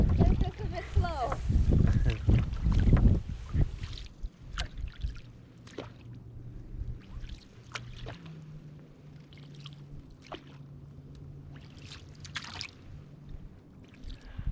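Canoe paddled on a lake: a loud rush of wind and muffled voice at first, then quiet water with soft, irregular paddle splashes and drips close by.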